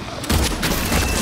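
Burst of gunfire in the Silent Hill 2 Remake survival horror game, a loud dense volley after a brief quiet start, booming low end sustained through the rest of the moment.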